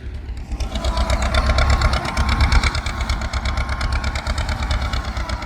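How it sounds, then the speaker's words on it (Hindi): A Belarus tractor engine running close by, a loud, steady mechanical chatter with rapid regular pulsing and a slight knock, holding an even idle-like pace with no talking. "मुझे पर्सनली ये बेलारूस का ट्रैक्टर बहुत पसंद है।"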